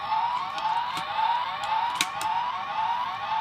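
A Power Rangers SPD Delta Squad Megazord toy sounds its electronic siren, a continuous warbling wail that repeats steadily at moderate loudness, with a few faint clicks over it.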